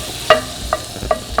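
Butter going into a hot garlic-infused pan to deglaze it, with a soft sizzle under a few distinct scraping stirs spaced about every half second, close and alone.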